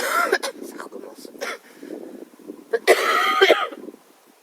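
A person coughs in several sharp bursts during a nighttime paranormal investigation in the woods, with talking in between and a louder coughing fit near the end.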